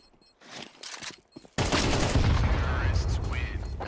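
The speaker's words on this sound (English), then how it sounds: "AK-47." AK-47 fire in a Counter-Strike esports match, quieter game sounds and faint voices first, then a sudden loud burst of rapid automatic gunfire that continues to the end.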